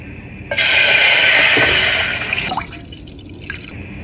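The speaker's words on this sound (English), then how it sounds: "Add the coconut milk" Coconut milk poured into a pot for Jamaican chocolate tea, a steady close liquid stream lasting about two seconds that tapers off with a few drips, alone without talk.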